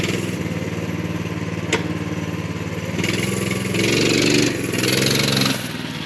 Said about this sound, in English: me and some of my friends fired it up and rode around my shop for a while